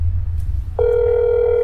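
A steady telephone ringback tone starts partway through and holds continuously, in the That's Not My Neighbor video game, following a low background rumble at the start.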